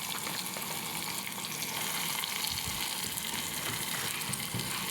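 Cauliflower frying in a hot pan for a Maharashtrian flower bhaji, giving a steady, dense sizzle that holds evenly for the whole stretch, with no talking.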